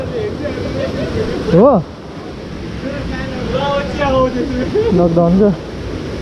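A river stream flows steadily near Sundari Mai temple at Sundarijal, a broad rushing wash running through the clip while people talk over it.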